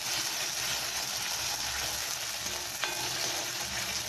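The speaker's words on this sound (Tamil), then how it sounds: "பியூரியை எடுத்து அதே நெய்யிலேயே கொட்டிடுவோம். அடுப்பை வந்து சிம்மில் வச்சுக்கோங்க. அதை லைட்டாக பெரட்டி விட்டுட்டு" Apple puree is poured into hot ghee in a pan on a low flame and stirred, sending up a loud, steady sizzle and frying hiss with a faint scrape partway through and no speech.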